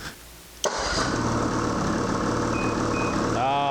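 A BRP engine fitted with an electric start kit, battery and solenoid cranks and catches abruptly, then settles into a steady, loud running drone close by with no talk.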